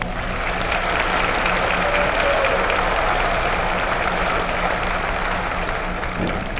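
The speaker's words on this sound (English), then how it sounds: "Please join me in a round of applause for Gene Montgomery and the IVCC Wind Ensemble." Commencement crowd at Illinois Valley Community College applauding the wind ensemble and its director, a broad, steady wash of many hands clapping in a large hall, sustained and even throughout.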